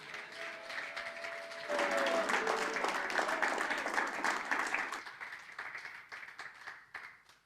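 A church congregation breaks into sustained applause and cheering, and a speaker's voice and music can be heard over it before the clapping thins out and fades.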